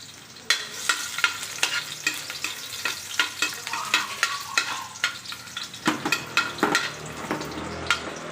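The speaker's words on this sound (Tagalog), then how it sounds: "Gisa muna ng bawang." Garlic sautés in a pan for sardines, a soft sizzle beneath repeated scraping stirs of a utensil against the pan in irregular strokes, close and clear with no talking.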